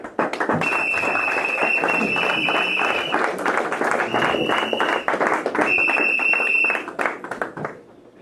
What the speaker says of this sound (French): Je demanderai à la salle de pouvoir applaudir à l'honneur d'exaucer